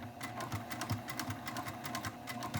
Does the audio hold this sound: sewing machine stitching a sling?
yes